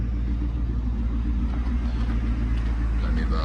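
Car engine rumbling steadily as the vehicle pulls away, a low continuous drone heard from inside, loud and unbroken, with a brief spoken remark over it.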